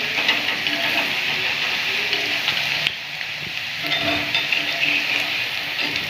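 Onion pakora mixture frying and being stirred in a pan over a flame: a steady, close hiss of sizzling oil runs throughout, with brief scraping stirs and a short dip in loudness midway.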